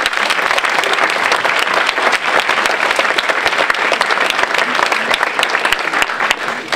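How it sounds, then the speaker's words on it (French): Loud, dense applause from an awards ceremony audience at the French Imagine Cup 2013 final, with continuous clapping that holds steady throughout and no talk. "en tonnerre d'applaudissements s'il vous plaît"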